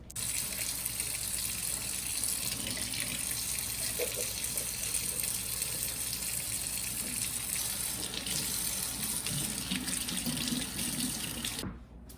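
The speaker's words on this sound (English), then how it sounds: "Then I'll bring my gun inside and clean out all of the components using a sponge and wire brush." Water gushes steadily from a tap while the components of an HVLP gravity-fed pneumatic spray gun are washed with a sponge beneath it, a continuous close hiss that cuts off abruptly at the end.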